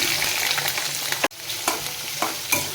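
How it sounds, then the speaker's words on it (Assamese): Steady loud sizzling of onions, ginger, garlic and green chillies frying in hot oil, with a few scraping stirs and one brief dropout partway through. "এইখিনি পিঁয়াজ, আদা, নহৰু আৰু কেঁচা জলকীয়া দি এনেকৈ ভাজি লৈছোঁ খুব ধুনীয়াকৈ।"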